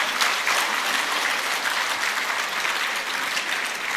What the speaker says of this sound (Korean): 준비해 주신 모든 분들에게 박수 좀 보내주십시오.